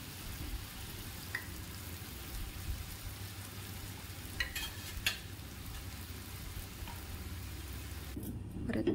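Jalebi fry in hot oil with a faint, constant sizzle and crackle, broken by a few brief stirring or scraping knocks, and a slightly louder clatter near the end.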